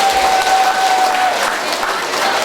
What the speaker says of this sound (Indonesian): Kita beri tepuk tangan untuk semua mereka yang sudah